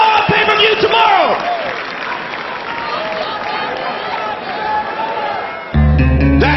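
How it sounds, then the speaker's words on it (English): Crowd at a UFC 141 weigh-in for Brock Lesnar and Overeem, a loud roar of cheering and yelling that carries under shouted voices, then cuts to a sustained tone near the end. "Give a round of applause"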